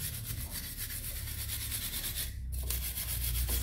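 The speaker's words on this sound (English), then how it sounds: "It's not too bad, just a rub down, but get a wire brush in." A wire brush scrubs steadily over a brake hub on an R53 MINI during a big brake upgrade, a continuous close abrasive rasp with a brief pause near the end before resuming.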